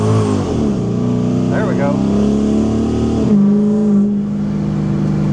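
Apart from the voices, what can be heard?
Chevy 5.7 HEMI engine revving with new intake manifold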